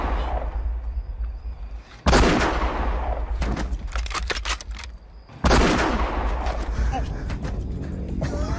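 Gunfire in an action film: two sudden loud blasts each set off a rapid run of sharp shots, close and intense, the bursts separated by a short lull.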